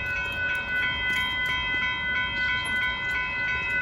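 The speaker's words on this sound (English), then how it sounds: "a northbound Union Pacific cement train comes through the area" A northbound Union Pacific cement freight train rumbles past steadily in Austin, Texas, with a sustained horn-like tone and rhythmic clatter of railcars, continuous and fairly loud throughout.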